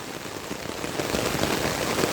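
Dense, steady rain patters down on surfaces nearby, growing slightly louder and heavier as it continues.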